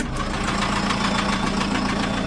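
A 2010 John Deere 7130 tractor runs with its 540 PTO engaged. Its engine gives a steady, loud, close throb with a slightly knocking rhythm, and no voices are heard.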